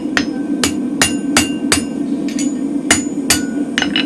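Mild steel spring fuller struck with a hammer on an anvil while being trued flat in its final heat, nine sharp ringing blows in an uneven rhythm, close and loud over a steady low forge hum.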